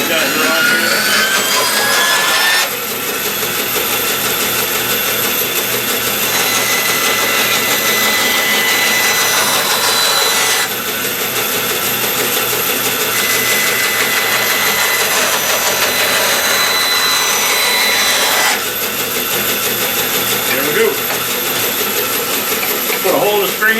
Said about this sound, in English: So very simply with the saw, just right down the lines I've got here on here.